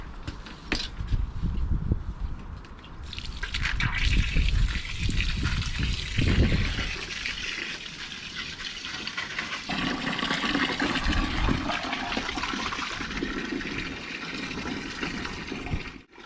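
Water gushes and splashes into a bucket of homemade weedkiller mix outdoors, a loud, continuous rushing pour that shifts in tone as the bucket fills.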